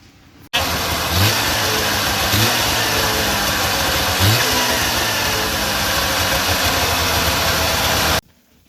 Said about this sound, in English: Okay, so it is a running motor now.